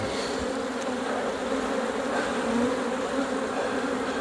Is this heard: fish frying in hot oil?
no